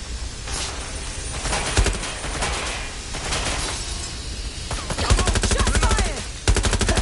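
Rapid automatic gunfire rattles in repeated bursts during a Watch Dogs: Legion firefight, with sharp cracks and brief gaps between volleys, loud and close.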